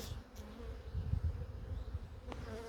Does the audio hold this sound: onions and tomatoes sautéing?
no